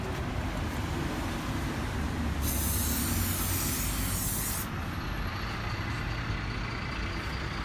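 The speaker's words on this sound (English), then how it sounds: "So if we spray this stencil" A continuous broadband hiss fills the background, and a bright, sharper spray-paint can burst over a stencil stands out for a couple of seconds in the middle.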